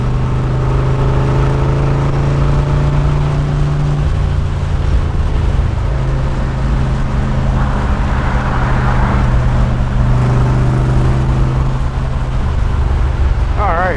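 A black 1966 427 convertible's engine runs steadily with a loud, low drone that holds for the whole stretch, its pitch shifting a little as revs change. Someone talks over the engine noise throughout.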